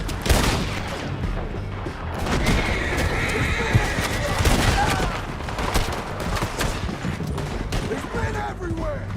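Horses of riders in Red Dead Redemption 2 neighing and whinnying amid clip-clopping hooves, with gunfire bursts and shouting voices mixed in throughout.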